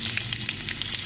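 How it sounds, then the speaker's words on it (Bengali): Dried chilli, green chilli and cumin seeds sizzle in hot oil, a loud dense crackle with small pops running through the whole brief moment, heard close up. "তেলের মধ্যে আমি একটা শুকনো লঙ্কা, একটা কাঁচা লঙ্কা ফোড়ন দিলাম, জিরে দিলাম ফোড়ন"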